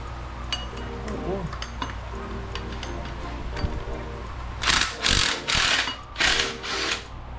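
A socket wrench works a bolt during a teardown of a MerCruiser 4.3 MPI Vortec boat engine, with light metallic clicks early on, then a run of loud ratcheting bursts, while someone talks.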